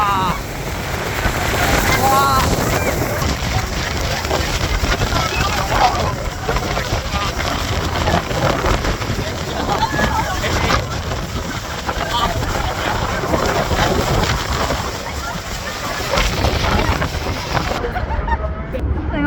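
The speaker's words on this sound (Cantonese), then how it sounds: "好大風！" Strong wind buffets the microphone in a steady roar over an engine and rushing water in foggy spray, with excited voices shouting throughout.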